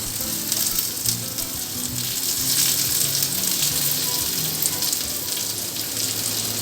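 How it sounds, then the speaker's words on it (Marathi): Shrimp (prawns) sizzling steadily in a frying pan after being turned over, a continuous bright crackle of hot oil at close range with no talking. "आपण आता पलटून घेऊया आणि दुसऱ्या बाजूने फ्राय करून घेऊया."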